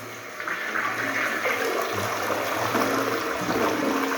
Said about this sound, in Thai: จะทดสอบการกดฝักนะฮะเป็น ไซฟอนวอชดาวของคอตโต้นะฮะระบบนี้ถือว่าแรงมากนะโอเค กดแล้วปล่อยนะครับ